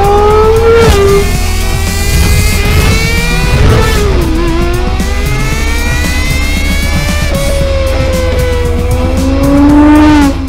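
A Gordon Murray supercar's naturally aspirated Cosworth 12-cylinder engine revs hard and loud, its pitch climbing and falling through several sweeps, with a brief tire squeal and no voices.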